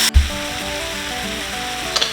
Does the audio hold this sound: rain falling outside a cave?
no